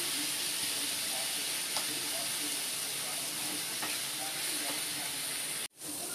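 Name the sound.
sautéing chili powder and sambar powder in a pan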